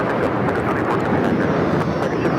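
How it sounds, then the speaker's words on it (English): An American Airlines Boeing 737-800 takes off from Los Angeles LAX, a steady, dense roar of jet engine noise holding at constant loudness throughout, with no talk over it. "That is American Airlines 613 taking off to Chicago on the 737-800."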